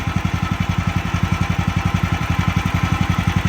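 A Miller Blue Star 185 welder generator engine idles low with no load, a steady close pulsing thump repeating evenly and loud throughout, with no voices.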